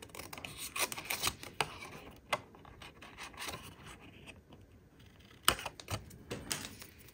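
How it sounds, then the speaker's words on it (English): Scissors snip quietly through paper to cut out a template, giving faint, close, irregular clicks and crisp cuts with soft rustling between. "go ahead and cut that out to use as my my guide or my template"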